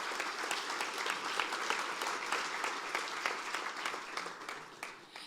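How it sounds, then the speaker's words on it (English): A conference audience applauds the culinary staff at a food and flavor event, a dense, even wash of clapping from many people that holds steady and then tapers off near the end. "if we can give our culinary staff a round of applause"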